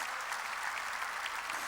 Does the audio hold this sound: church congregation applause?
yes